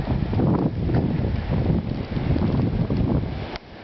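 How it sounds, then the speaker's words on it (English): Strong gusting wind roars and buffets the microphone during a 2010 Connecticut snow blizzard, a loud continuous rushing with surging pulses and no talking. "Certainly is flippin' windy, though."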